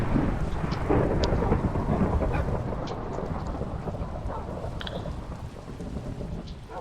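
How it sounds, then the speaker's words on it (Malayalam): A Minecraft thunderstorm: heavy rain hisses continuously, deep rolling thunder swells loudest early on and then slowly fades, and a few faint drips sound over the downpour. "നല്ല കിടില ഇടി മഴ"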